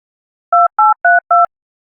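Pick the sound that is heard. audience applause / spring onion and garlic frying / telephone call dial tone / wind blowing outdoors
telephone call dial tone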